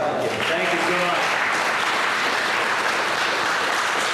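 Audience at a paranormal convention applauding, a broad sustained wash of clapping from a large crowd, loud and continuous, with a voice briefly audible at the start.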